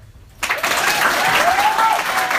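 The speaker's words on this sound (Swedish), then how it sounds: "applåd" After a near-silent start, a comedy club audience at a Swedish stand-up show suddenly bursts into loud, sustained applause with cheering mixed in.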